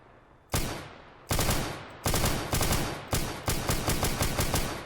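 Gunfire from a weapon in the ARMA 3 video game with a Warhammer 40k mod: loud, booming shots that start single and spaced apart, then come faster into a rapid burst, each with a fading tail.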